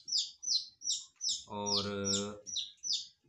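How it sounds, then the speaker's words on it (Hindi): A pair of pet Australian parrots kept at home give a steady run of bright, rapid chirps close by, with a brief spoken word over the calls midway. "घर में रखने वाले ऑस्ट्रेलियन तोते देखिए माशाल्लाह कितने खूबसूरत हैं।"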